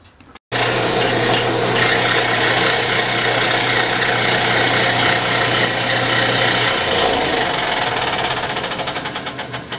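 A loud power tool saws steadily through hard knife handle material, cutting away excess, droning continuously before its pitch drops and slowly fades toward the end.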